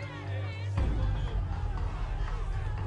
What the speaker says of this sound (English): Crowds of protesters swarmed the Maltese parliament.